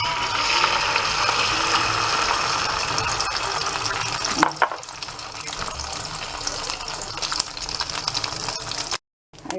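Beaten egg mixture is poured into a hot pan and fries with a loud, steady sizzle. A splashy disturbance comes midway and a short silent gap near the end, with no talking.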